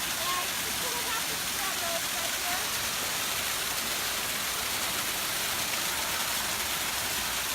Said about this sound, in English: Now Bonita Falls is a 100-foot waterfall.